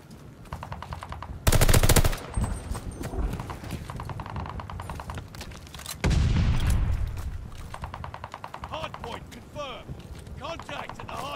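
Rapid automatic gunfire and bursts of shooting in a Call of Duty Hardpoint match on the Berlin map, loud and dense, with two especially heavy sustained bursts, under game voice callouts and busy battlefield noise.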